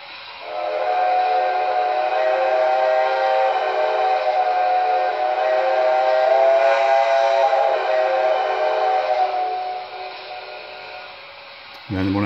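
A PS3 steam locomotive sounds its added Proto whistle in one long, sustained chord for about ten seconds. It is loud and even, then trails off at the end.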